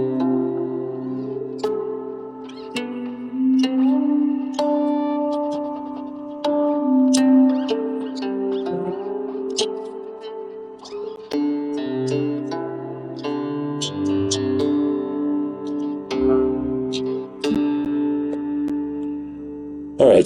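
Guqin played with electronic and MIDI processing, plucked notes and sustained processed tones layered over a low drone, with scattered sharp attacks and shifting bass, moderately loud and close, no talking.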